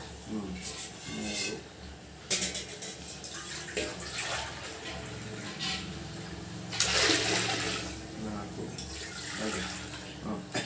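Water pours and splashes in bursts into a cooking pot of rice for biryani, with voices talking quietly in the background.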